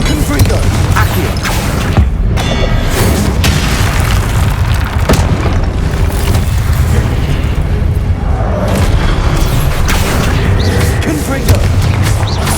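Blasting-spell explosions from the Confringo charm in the wizarding game Hogwarts Legacy roll through a loud, continuous barrage of booms and rumbling impacts, with a voice speaking at times over the din.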